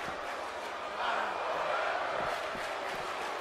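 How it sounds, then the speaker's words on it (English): A packed audience at an unofficial wrestling show during Universal Studios Halloween Horror Nights chants together, a dense, loud, steady wash of many voices that swells slightly midway and fills the whole clip. "The crowd chant."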